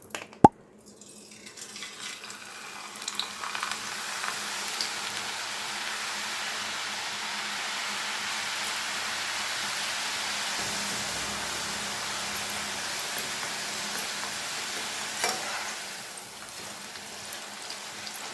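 Besan sev dough pressed through a press into hot oil, producing a dense, steady sizzling and bubbling hiss that starts right after a sharp knock and continues close and even throughout.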